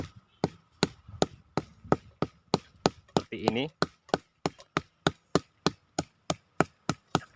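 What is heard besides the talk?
hammer striking wood to peel bark off bonsai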